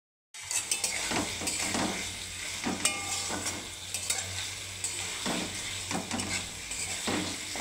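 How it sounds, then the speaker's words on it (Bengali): Pre-fried beans, potato and cauliflower go into a spiced paneer curry and fry with a continuous sizzle, as repeated utensil scrapes and clinks against the pan come close and fairly loud. "তো এখন আমি ভেজে রাখা বিনস, আলু, ফুলকপি সবজিগুলো সব দিয়ে দেবো।"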